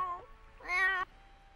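A pet cat in The Sims 4 life-simulation game lets out a short game-sound meow, a brief rising mew that swells then cuts off, faint and close with no talk over it.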